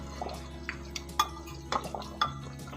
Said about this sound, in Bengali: একটু ভালো করে নাড়িয়ে দিচ্ছি।